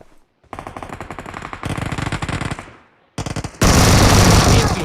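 Machine gun fire in the PUBG Mobile game, rapid sustained bursts that rattle continuously, pause briefly, then resume louder and denser, close and dominant with no talk over it.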